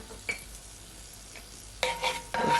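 Curry powder and garlic leaf are stirred into a hot pan, giving a soft background sizzle with a few utensil scrapes, then a loud burst of frying that crackles toward the end.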